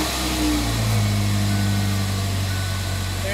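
A Ford Ranger engine with a newly replaced fuel pump runs close by, a steady mid-pitched hum with a slight rise in revs.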